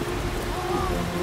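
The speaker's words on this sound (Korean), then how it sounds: "빗방울?" Light rain patters softly and steadily, a faint hiss of drops with a thin tonal hum in the background.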